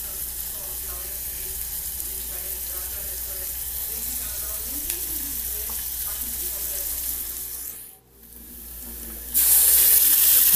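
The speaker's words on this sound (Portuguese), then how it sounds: "coloquei ali um pimentão, uma cebola, um alho, para tá dando uma fritada" Bell pepper, onion and garlic frying in a pan, a steady hiss of sizzling oil running throughout with soft stirring scrapes, briefly dipping near the end before a louder burst of frying noise.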